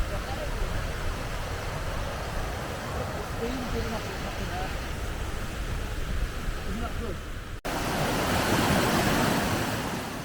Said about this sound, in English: look at that waterfall coming down there